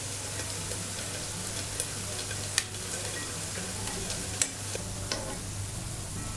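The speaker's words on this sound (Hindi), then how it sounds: "तो इस तरह से हमें पलट पलट कर गोल्डन ब्राउन होने तक सेलो फ्राई करना है।" Tikki patties shallow frying in a pan until golden brown, giving a continuous close sizzle with occasional sharp pops and crackles, no voices.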